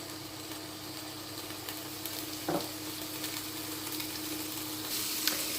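Filet mignon sears in a hot pan with salt and pepper, giving a steady, continuous sizzle and crackle throughout, with one brief clatter from the pan partway through.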